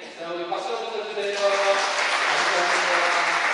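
Church congregation at a Sunday worship service claps together, starting under voices and tonal sound before swelling into a broad, steady applause.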